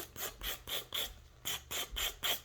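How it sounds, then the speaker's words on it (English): A nail file rasps against stiletto-shaped nails in quick, even back-and-forth strokes, about nine short scratchy passes heard close up and fairly quiet. "I always start with the top part, like the sides, and I always file one side at a time."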